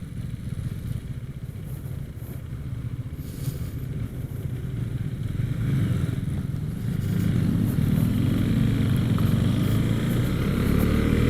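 Husqvarna Vitpilen 401 motorcycle riding, its single-cylinder engine droning steadily and climbing in pitch through gear changes, growing louder toward the end with wind rushing past.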